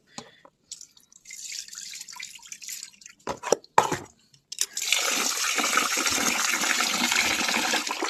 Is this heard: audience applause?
no